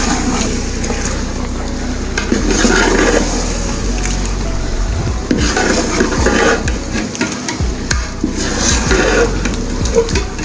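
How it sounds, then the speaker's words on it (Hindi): Chicken korma being stirred with its masala in a pan, a steady sizzle and scraping of the spoon running throughout with a continuous, fairly loud frying hiss and no voices. "एक दफ़ा इसको अच्छी तरह हिला के ताकि सारे चिकन के साथ हमारा मसाला जो है वो लग जाए"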